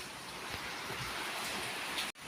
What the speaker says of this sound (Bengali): এই দেখো বাইরে কি বৃষ্টি